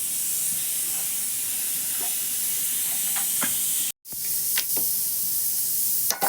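A kitchen pressure cooker full of cowpeas lets out a continuous hiss of escaping steam, broken once by a brief gap, with a few faint clicks and knocks nearby.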